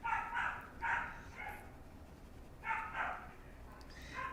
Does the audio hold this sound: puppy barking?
yes